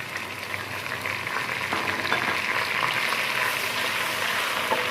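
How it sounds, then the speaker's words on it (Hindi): Ginger and garlic paste frying in a pan, making a continuous close sizzle with a soft, even hiss that swells slightly partway through and carries on without pause. "लहसुन और अदरक के पेस्ट को हमने फ्राई कर लिया है"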